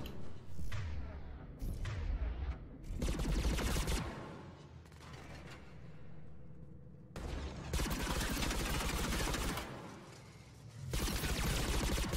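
Heavy gunfire and explosive bursts from the video game Mass Effect 3 come in loud sustained volleys, broken by short quieter gaps with rumbling booms.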